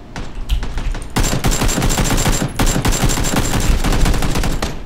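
Loud, close automatic gunfire in PUBG Battlegrounds, rapid dense bursts of shots following a few scattered opening shots, rattling almost continuously.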